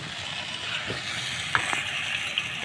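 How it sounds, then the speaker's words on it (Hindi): Beef pasanda frying in oil with ginger and garlic, a steady even sizzle that fills the clip, with a few light stirring clicks and no speech. "इस तरह से हम पसंदों को फ्राई करेंगे 4 से 5 मिनट।"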